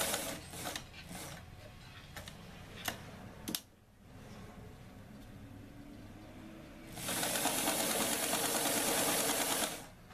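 A sewing machine stitches a pocket onto an 18-inch doll apron, starting with a few short ticking bursts, then falling quiet before a loud, steady run of close mechanical whirring.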